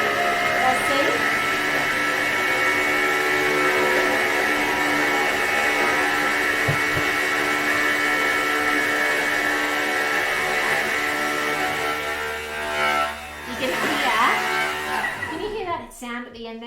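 A Thermomix grinds peanuts into peanut butter, a loud steady motor whine and whir running throughout, shifting and fluttering near the end as the paste clears the blades and they spin freely; speech is heard over it.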